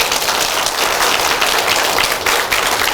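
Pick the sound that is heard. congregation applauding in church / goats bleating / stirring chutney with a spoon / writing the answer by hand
congregation applauding in church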